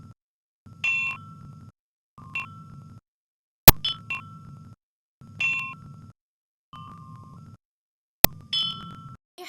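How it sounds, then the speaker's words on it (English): Replica ancient Chinese bronze chime bells of Marquis Su of Jin are struck one after another at different pitches. Each gives a clear metallic ding with a lingering hum, spaced at an unhurried pace, and there are a couple of sharper clanks. "the bells were made in different sizes in order to have different types of sounds"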